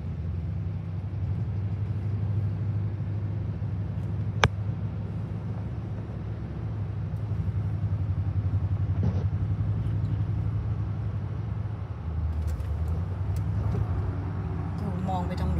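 Heavy traffic on a busy, crowded street in Key West, Florida: a steady low rumble of idling and slow-moving cars and buses continues throughout, with a brief sharp knock near the start and someone talking over it.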